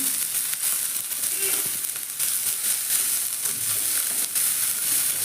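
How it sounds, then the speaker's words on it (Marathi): Onion fries in a pan for a drumstick vegetable dish, a steady close sizzle with faint scraping stirs and small crackles throughout and no talking. "कांदाही छान भाजून घ्यायचा"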